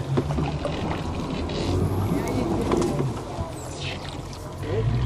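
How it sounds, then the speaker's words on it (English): Kayak paddling through mangrove water, steady low water and hull noise running the whole time with light splashes, close to the mic, while people talk softly in the background. "Here we are, kayaking through the mangroves like the Native Americans did back in the day."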